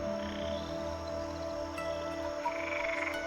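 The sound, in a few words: frog croaking in the video game GreedFall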